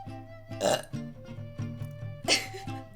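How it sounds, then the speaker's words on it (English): A person lets out a burp during a Fran Bow game session, with a couple of short throaty bursts standing out above steady game music in the background. "I kind of have to burp"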